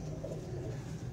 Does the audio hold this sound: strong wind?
no